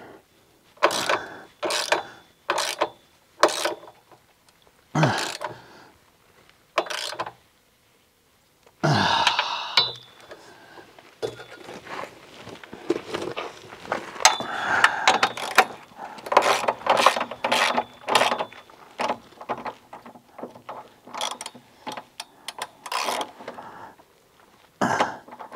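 Bursts of a ratchet wrench tightening bolts on Quadratec QRC rocker guards fitted to a Jeep Wrangler JK, heard as repeated short clicking runs separated by pauses, close and fairly loud, with no talking.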